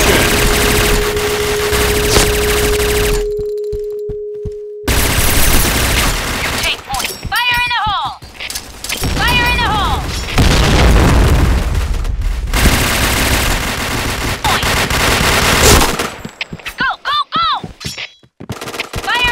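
Gunfire fills a round of the online shooter Point Blank on the Downtown map: rapid automatic bursts and single shots, loud and close, with game sound effects and a voice between volleys.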